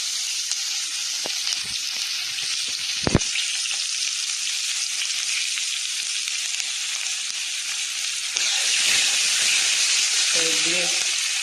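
Sliced onion dropped into hot tempering oil with asafoetida in a home kitchen, a steady loud sizzle that surges louder near the end, with a few clinks from a utensil.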